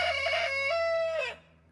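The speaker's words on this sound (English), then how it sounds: "the rooster" A rooster in a hillside summer garden gives a single long, clear crow, close and loud, ending abruptly into quiet morning air.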